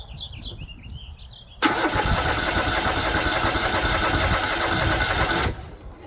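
A rusty John Deere L130 lawn tractor engine cranks and catches, running loudly and steadily close by for about four seconds before cutting off, with birdsong faint in the background beforehand.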